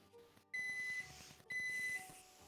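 Two steady electronic beeps, each about half a second long, sound fairly quietly over low background murmur.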